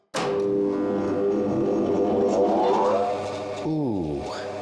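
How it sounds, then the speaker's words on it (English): A 20-ton punch press hums and drones steadily after it starts, with a sudden onset and a rising pitch sweep as it winds up, then a sliding pitch shift near the end. Close, continuous and loud, with no talking. "She's a 20-ton punch press, and she sounds like this when you turn her on."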